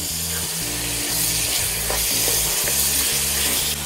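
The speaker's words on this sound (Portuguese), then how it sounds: "Vamos agora refogar a carne por mais ou menos uns 5 minutos." Meat sautéing in a pan for a traditional Portuguese recipe, a loud, close, continuous sizzle and hiss with faint stirring under it, no talking.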